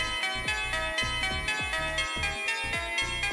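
A BeepBox chiptune loop with a duplicated instrument detuned up a semitone plays punchy, rhythmic notes with a thumping beat and pitch-dropping hits in a steady repeating pattern, bright and busy without any voice.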